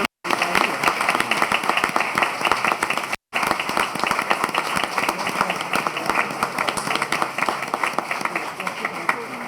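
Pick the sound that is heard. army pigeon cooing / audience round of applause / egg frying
audience round of applause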